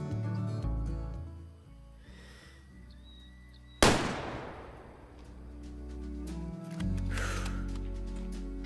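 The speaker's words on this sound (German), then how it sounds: "Schuss sollte eigentlich gepasst haben, sofern die Waffe reicht." A single hunting rifle shot in the Way of the Hunter video game, set in Alaska, cracks sharply midway and rolls off in a fading echo, with faint ambient game sounds before and after.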